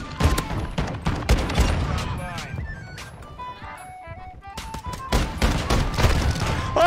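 Bursts of gunfire from a KV Broadside shotgun in Call of Duty: Modern Warfare II, loud sharp shots in quick irregular clusters mixed with game effects and tonal interface sounds.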